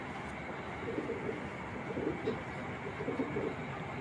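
Racing pigeons coo softly in repeated low murmurs over a steady background hum, with no talking.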